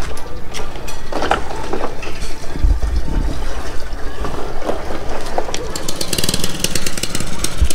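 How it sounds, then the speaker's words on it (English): A small generator-driven pump runs steadily at a house construction site before concrete is poured, a loud rattling mechanical drone with rhythmic knocking and splashing, continuous throughout. "Got the generator, little small generator pump running"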